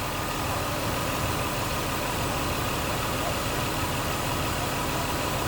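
A 2007 Ford Escape XLT engine idles steadily at close range, a constant broadband rumble with no rise or fall in revs across the whole stretch.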